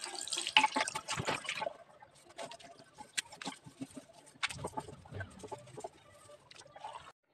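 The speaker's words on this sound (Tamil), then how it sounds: "ரெண்டு நிமிஷம் ஆகிட்டு நம்ம இதனி நல்லா கழுவி விட்டுடலாம்." Water splashing and pattering as a household electrical switchboard is washed, with irregular bursts of running and dripping water, close and fairly quiet.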